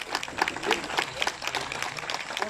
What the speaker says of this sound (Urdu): زوردار تالیاں.